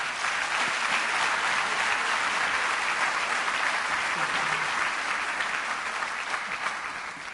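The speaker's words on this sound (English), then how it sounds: "may you please give another round of applause" Sustained audience applause fills the hall after a public lecture at Mandela University, a dense, steady wash of clapping that holds strong for several seconds before easing slightly at the end.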